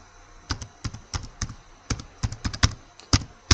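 Rapid, irregular typing on a computer keyboard: a dozen or more sharp, close key clicks in uneven bursts over a quiet background, no voices.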